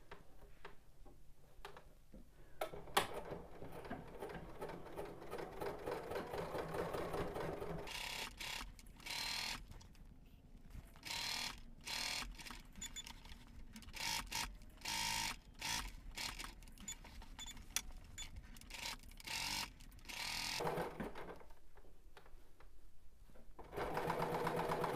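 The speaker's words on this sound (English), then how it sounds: "let's head over to the machine and edge stitch our pocket down" A domestic sewing machine edge stitching a fabric pocket on a dress pattern with an edge stitch foot, a close, steady mechanical whirring in bursts with short pauses between runs and a few faint clicks.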